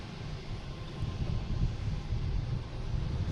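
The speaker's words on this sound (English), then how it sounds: "We got a JetBlue coming into the alley here." A JetBlue airliner arriving from JFK on approach to land at Boston Logan airport, a steady low broadband engine rumble with wind buffeting, moderately distant and swelling slightly midway.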